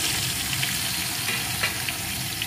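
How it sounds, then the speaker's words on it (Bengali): Cut pointed gourd pieces go into hot oil in a pan, producing a continuous bright sizzle with small crackles, steady and close, no talk. "এখন এই তেলের ভিতরে কেটে রাখা পটলের টুকরোগুলো দিয়ে দেব।"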